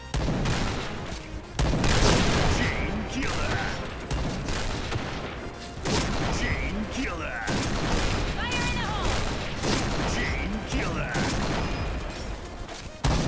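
Gunfire in a first-person shooter video game: repeated bursts of sharp shots and booming blasts in irregular clusters, loud and close, with brief gaps between volleys.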